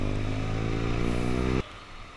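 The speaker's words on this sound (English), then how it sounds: "I'm now riding with the iXIL exhaust, which is damn good." A Benelli TNT300 motorcycle fitted with an iXIL exhaust, heard while riding: a loud, steady engine drone with a dense stack of harmonics that drops off sharply about three-quarters of the way through, leaving a quieter rumble.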